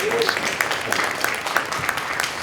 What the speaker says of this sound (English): Give her another round of applause here